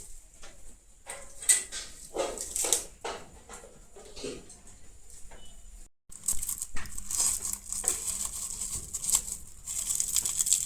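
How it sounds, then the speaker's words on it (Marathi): Plastic wrapping is peeled and torn off a new gas stove, with repeated crinkling, rustling bursts and tearing close by, a brief pause, then more continuous crackling handling. "सगळ्यात पयलीं प्लास्टीक काडया"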